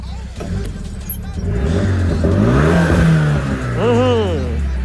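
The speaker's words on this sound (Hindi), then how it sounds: "गाड़ी को कोल्ड स्टार्ट पर लगा ही रखा है, और इसके एग्जॉस्ट भी सुना देता हूँ तुम्हें।" A car's exhaust rumbles on a cold start, the engine revving up and settling in loud, close swells while someone speaks over the running motor.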